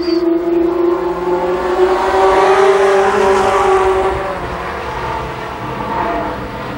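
Limited Sportsman race cars on a qualifying run at Columbus Motor Speedway in 1993, engines droning and rising as they pass, loud then fading slightly into the distance.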